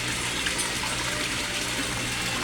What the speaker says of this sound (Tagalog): At ito ang sinasabi ko na Rizan aerator pump, guys. Ang lakas-lakas niya, guys, oh.